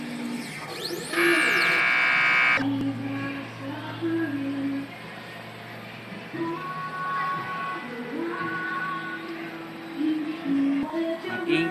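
A printer using Muse ink runs a nozzle check after a head clean. It opens with a loud, close buzzing whine that rises and falls in pitch, then settles into a steadier lower motor hum with shifting mechanical tones and clicks.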